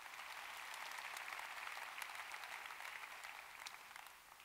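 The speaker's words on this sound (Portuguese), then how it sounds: "Quem pode dar um aplauso ao Senhor Jesus nessa manhã?" A church congregation applauds during a Sunday morning service, a steady wash of many hands clapping at a faint, distant level that tapers off toward the end with no voice over it.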